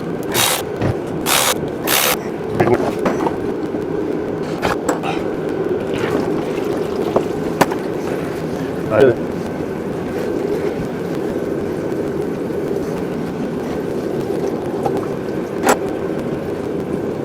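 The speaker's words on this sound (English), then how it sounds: "I'm going to start popping the bolts on the oil pan, or the transmission oil pan" Bolts being removed from the transmission oil pan of a classic Wagoneer. A ratchet clicks in several quick bursts at the start, followed by scattered metallic ticks and a low background hum.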